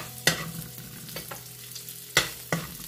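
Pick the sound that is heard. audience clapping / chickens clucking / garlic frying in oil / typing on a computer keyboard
garlic frying in oil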